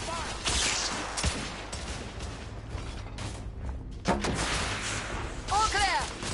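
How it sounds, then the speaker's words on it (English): Suppressive gunfire in The Order 1886 crackles in scattered volleys amid battle noise and mechanical clanks, with shouting voices over it. "Lay down suppressive fire!"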